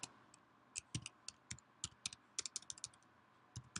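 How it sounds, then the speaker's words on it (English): Keys clicking on a computer keyboard in an irregular run of typing, close and fairly quiet, with uneven pauses between bursts and no voices. "My typing is not that good anymore."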